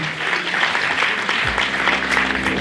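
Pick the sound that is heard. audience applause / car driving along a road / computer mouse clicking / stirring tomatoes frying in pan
audience applause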